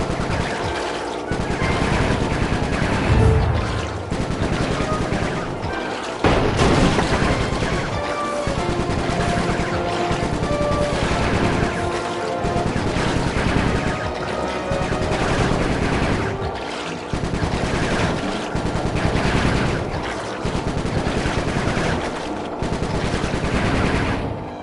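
Bentley fires guns in the Sly 3 video game: dense, sustained bursts of rapid gunfire, loud and close, with brief pauses between volleys over a busy game soundscape.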